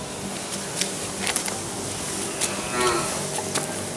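Cattle mooing nearby on a farm, low drawn-out calls over a steady background hum with a few clicks and knocks.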